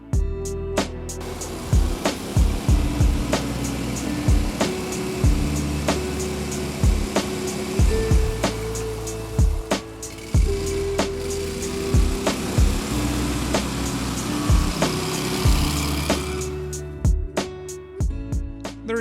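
A Pelec mini tracked ATV grinds slowly through water, its small engine droning under repeated clunks and splashes from the tracks, close and uneven, with a loud burst near the end.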